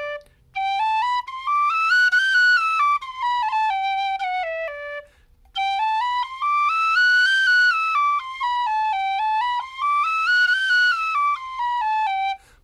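A tin whistle plays clear, bright notes in two long runs, each climbing and then falling step by step across the octave break, with a short pause between phrases and no voices.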